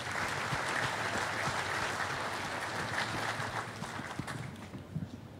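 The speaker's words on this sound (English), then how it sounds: "Give Luke a big round of applause." Steady applause from a summit audience, dense clapping that holds for several seconds before thinning slightly near the end.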